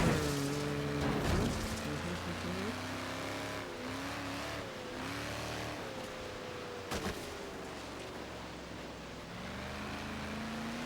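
A car engine in the Forza Horizon 3 racing game hums and rises and falls in pitch as it accelerates and shifts, steady and moderately quiet throughout.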